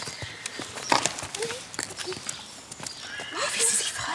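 A horse whinnies and its hooves clop on the ground, intermittent neighs and scattered hoofbeats at moderate distance amid outdoor ambience, with people talking nearby.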